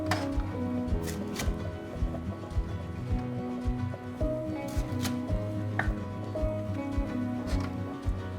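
Kitchen knife chopping a green onion (daepa) on a cutting board, with repeated sharp close knocks at an irregular rhythm, loud and clear with no talk.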